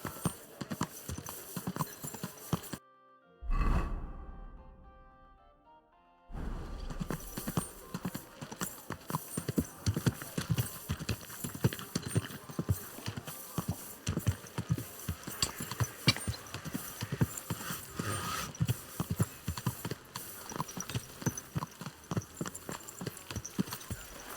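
Horse hooves clip-clop steadily and close in Kingdom Come: Deliverance II, a medieval setting, with a brief hush partway through before the rhythmic hoofbeats resume over faint ambient noise.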